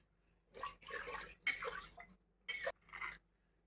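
Water runs in short splashing bursts as hands are washed clean of colored rice-flour kolam powder, with several separate gushes and brief pauses between them.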